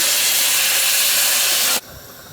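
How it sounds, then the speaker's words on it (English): Three cups of water poured into a hot pan of keema aloo mattar (minced meat, potato and peas) make a loud, steady sizzling hiss that cuts off abruptly, leaving quieter bubbling. "So now that we've added our water in,"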